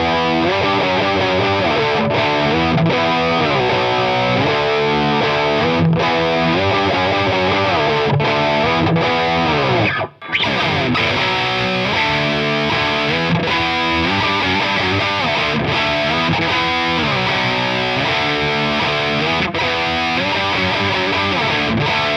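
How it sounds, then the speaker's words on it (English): A 1990s Gibson SG electric guitar with MLA pickups, played through a Fender Deluxe Reverb driven by a Revv G3 distortion pedal, chugs a riff in loud, heavily saturated chords, with a brief drop in the middle before the riff carries on. "I'm going through the Fender Deluxe Reverb, but I'm using the Revv G3 as some big old distortion."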